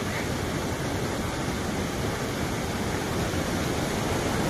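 A river waterfall roars with steady, loud rushing water that fills the whole span without pause, a dense broadband wash with no voices.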